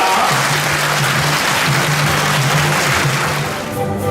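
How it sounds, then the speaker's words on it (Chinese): Sustained, loud applause from a gathered audience of guests and officials welcoming the president and the transport minister at an event, a dense unbroken wash of clapping for about four seconds with a low hum underneath. "请与会贵宾同仁热烈掌声欢迎总统及林部长"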